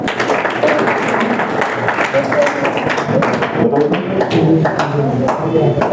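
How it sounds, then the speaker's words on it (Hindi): A classroom of students breaks into dense, continuous clapping for a classmate, with voices mixed in under the applause. "ताली बजाओ एक बार"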